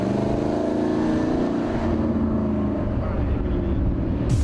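Aston Martin sports car driven hard, engine revving and accelerating with a rising throaty note that fades as it pulls away, loud and close.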